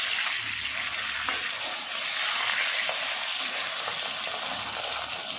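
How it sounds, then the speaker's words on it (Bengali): A pomfret fish fries in a pan of oil with a dense, steady sizzle and crackle that stays close and constant throughout, with no voices. "মাছটা উল্টিয়ে দেবো। এপারটা হয়ে গেছে ভালো ভাজা।"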